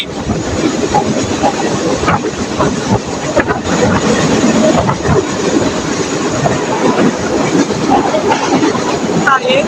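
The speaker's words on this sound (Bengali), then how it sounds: "ভাই রে ভাই, কি জোরে যাচ্ছে আমাদের চিত্রা এক্সপ্রেস ট্রেনটি।" Chitra Express train running fast, heard from inside the power car on a Chuadanga to Alamdanga trip: a loud, continuous rumble and rattling clatter that fills the whole stretch without letting up.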